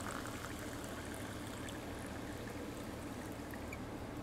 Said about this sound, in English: Let's go ahead and fill these cups up.